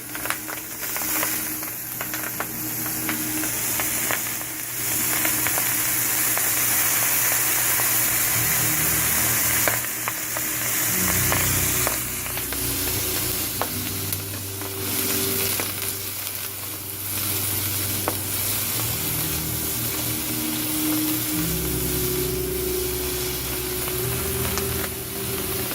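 Mushrooms fry in oil in a Breville RM-BEW600XL electric wok with a steady, loud sizzle throughout. Stirring scrapes and clatters come and go over the hiss, and a low electrical hum runs underneath.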